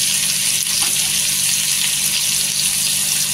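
Dry Bombay duck masala roasting on a hot tawa with asafoetida, turmeric and salt, a loud steady close-up sizzle and crackle with no pauses.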